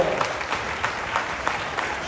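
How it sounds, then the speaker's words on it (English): Audience applause for Korean War veterans aboard a Royal Caribbean cruise ship, a steady spread of clapping from a moderate-sized crowd that continues for about two seconds. "Can you please give a nice round of applause right over here?"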